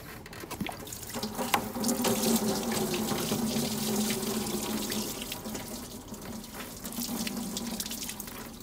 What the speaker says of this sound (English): there's some coolant going right in the bucket